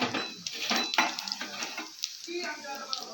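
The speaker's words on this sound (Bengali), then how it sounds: "কড়াইতে তেল রয়েছে, শুকনো লঙ্কা জিরে দিয়ে দিলাম।" Dried red chillies and cumin hit hot oil in a wok, giving a soft sizzle broken by quick metallic scrapes and clinks of a stirring spoon against the pan.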